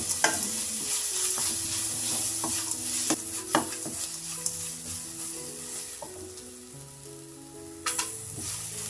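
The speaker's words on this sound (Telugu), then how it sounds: "ఇప్పుడు ఈ క్యారెట్ని అంతా ఒక 2 నిమిషాల పాటు నూనెలో బాగా ఫ్రై చేసుకోవాలి, రంగు మారేంత వరకు" Grated carrot frying in oil in a pan, a continuous close sizzle broken by repeated clicks and scrapes of stirring, some louder taps standing out.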